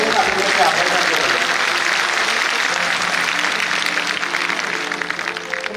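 A large audience applauds steadily and loudly throughout, a dense unbroken clapping at a Hindi poetry recital by Kumar Vishwas honouring Atal Bihari Vajpayee, with no pause or fade.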